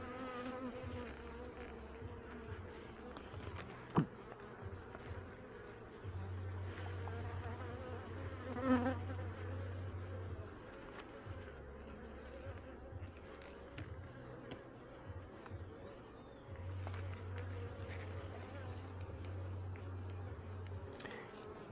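A steady, low insect buzz from many honey bees inside a hive fills the whole stretch, swelling and easing in waves, with an occasional soft tap nearby.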